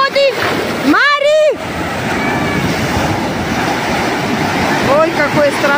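Rough Mediterranean sea at Mersin, Turkey, with waves crashing and splashing near the shore under gusty wind noise, while several people shout and talk excitedly over the surf.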